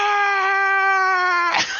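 A voice imitates a giant mouth screaming bloody murder: one sustained, loud, strained scream held steady for well over a second, ending in a brief rough burst.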